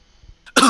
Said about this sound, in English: as she starts coughing more